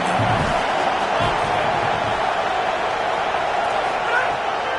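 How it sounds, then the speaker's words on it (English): Loud, dense roar of a home crowd cheering at an Indiana football game, a steady wash of stadium noise holding for the full stretch with faint low thumps underneath. "how nice is it to have the home crowd going absolutely bananas?"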